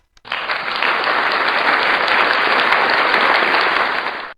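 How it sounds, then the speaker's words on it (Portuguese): Applause from a V8 sound board effect: a dense, even burst of clapping that starts abruptly, holds steady for about four seconds, then cuts off cleanly. "Aplausos."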